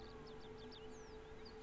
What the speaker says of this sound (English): sirens in the background